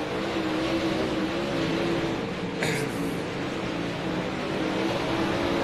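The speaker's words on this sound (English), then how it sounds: "we got a car trying to pull out on the racetrack in front of the leaders" Race cars run on a racetrack, a steady distant engine drone holding throughout at moderate loudness, with no clear pass-by and no voices audible over it.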